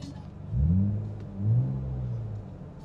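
A Mitsubishi Galant engine revs up twice through a Kakimoto aftermarket exhaust, deep and throaty, rising and falling close by, with no talking.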